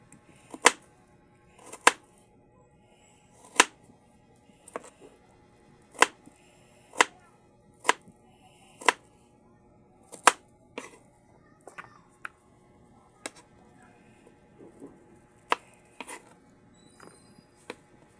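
Crisp, separate knife cuts slicing potatoes land one after another at an uneven pace on a cutting board, close and quiet, with no voices.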